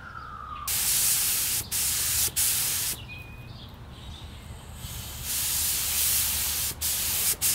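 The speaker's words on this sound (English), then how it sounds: "I've decided to give it an actual clear coat" Clear coat sprays onto a car part in several loud hissing aerosol bursts separated by brief pauses, with quieter background hiss between them.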